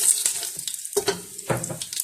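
Whole cumin, fennel and mustard seeds hitting hot oil for a Sri Lankan mutton curry, giving a short burst of crackling sizzle with a few sharp pops, close and fairly quiet, with no talking.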